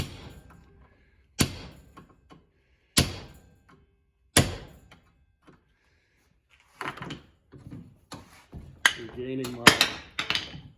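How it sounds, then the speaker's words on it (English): A hammer knocks a trailing arm bushing out of its arm in several sharp, evenly spaced metallic blows, followed by lighter clattering and handling of the part, close and alone with no talk. "we should be able to just knock it a few times on the other side"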